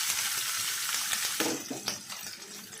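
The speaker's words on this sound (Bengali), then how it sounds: "তেলগুলো গরম হয়ে গিয়েছে। যে শুটকিগুলো রেখেছি শুটকিগুলো দিয়ে দিচ্ছি।" Dried loitta (Bombay duck) fish sizzling in hot mustard oil, a dense close frying hiss with crackles and small stirring clicks that settles a little midway.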